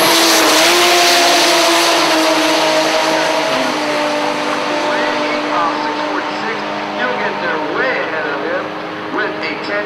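A Lexus SC300 and a 1989 Toyota Supra on a drag strip, engines droning loud and steady with rising whine, close and continuous throughout, with an announcer talking over the roar.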